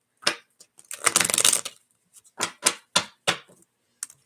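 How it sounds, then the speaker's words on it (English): Playing cards are shuffled in quick, crisp riffles: one long rippling burst in the middle, framed by several short separate snaps and flicks, close up and with no talking. "Sounds like you're shuffling, but I can't see you shuffling."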